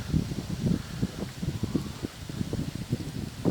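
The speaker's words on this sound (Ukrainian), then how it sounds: "Трохи мішає вітер, але вітер не заважає знімати відео." Wind gusts into the microphone beside a yellowed acacia grove, producing low, uneven rumbling bursts that rise and fall in close, buffeting pulses with no talk.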